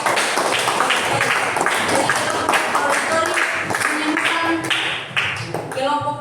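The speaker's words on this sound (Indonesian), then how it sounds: "tepuk tangan dulu buat kelompok" Classroom applause for a student group, dense clapping from many hands filling the room, sustained and fairly loud with voices mixed underneath.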